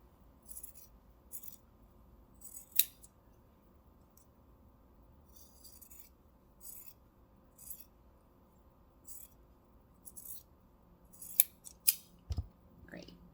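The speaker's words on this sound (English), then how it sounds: "if you want to cut off any of your extra fabric on the sides, you can" Scissors snip away excess fabric at the sides of a small sewn lip balm holder, a few sparse, crisp close cuts with quiet pauses between them and a small clink near the end.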